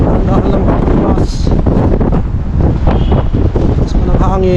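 Strong wind buffets the microphone in a steady, loud rumble on a cold outdoor walk along a road in Canada, with scattered voices talking under the roar.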